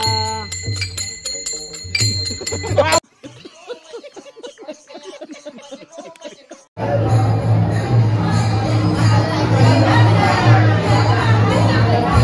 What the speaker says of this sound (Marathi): गर्दी फुल लागलेली आमच्या दर्शनाला बघू शकता किती गर्दी आहे